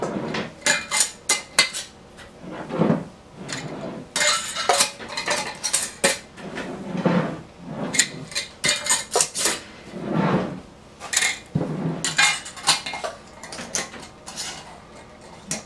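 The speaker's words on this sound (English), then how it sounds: "Tighten the lids down all the way, but just enough so that they stay." Lids on glass pint canning jars of carrots are twisted tight, producing a series of close, irregular metallic scrapes, clinks and taps in bursts, with short pauses between jars.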